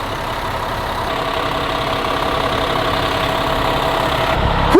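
A large Cummins diesel engine on a 2007 Linde 42-ton forklift idles steadily with a constant low rumble and mechanical clatter, close by, with a brief click near the end.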